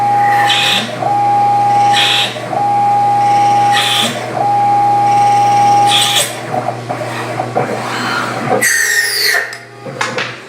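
A TAIG lathe whirs steadily with a sustained high whine while center drilling metal, broken by short pauses and bursts of higher, scraping cutting noise near the end.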